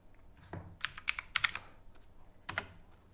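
Typing on a computer keyboard: a few quick bursts of crisp key clicks with short pauses between, close and fairly quiet, with no voices.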